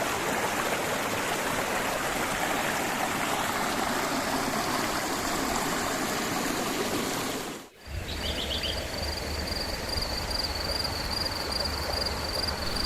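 A shallow river runs low in the dry season, its water rushing and trickling in a steady, close wash; after a brief dip the flow continues more softly with insects chirping nearby.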